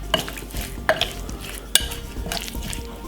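A spoon stirs stewed chicken in a pot, making close, wet scraping and sloshing strokes with a few sharp clinks against the pot's side.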